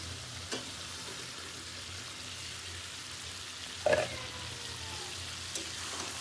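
Hilsa fish slid into a pan of fried tomato, green chilli and spice masala, giving a soft, steady sizzle with one brief louder burst partway through, otherwise quiet and without talk.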